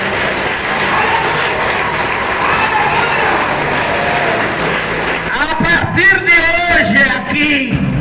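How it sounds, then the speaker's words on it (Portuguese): A congregation at a religious service bursts into applause, a dense wash of clapping across the room, while a voice speaks and calls out over the clapping in the last few seconds. "Uma salva de palmas para essas mulheres aí."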